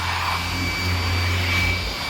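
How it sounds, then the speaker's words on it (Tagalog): A steady, loud rushing roar of an air blower drying a Toyota Hilux fuel pump, running continuously close by, with a constant hum underneath and no pauses. "Papatuyin natin ng blower yan."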